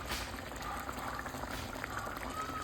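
Katla fish curry simmers in a pan with a dense, steady bubbling hiss, close and continuous throughout.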